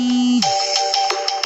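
A phone ringtone signalling an incoming call, a steady tone that drops and switches into a bright, repeating electronic melody with a rhythmic pulse, close and clear.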